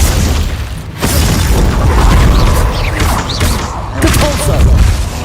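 Glacius freezing spell cast in Hogwarts Legacy, the video game, bursts out as a loud, continuous barrage of booming, crackling impacts and mechanical rumble, with a couple of stronger surges across several seconds.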